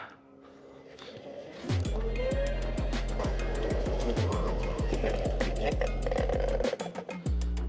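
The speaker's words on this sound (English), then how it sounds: "That's definitely loose belts." Veymax Merlin electric skateboard with a belt drive and loose belts braking: a rapid, regular clattering and slapping with a rising whine, close and loud for several seconds before briefly easing.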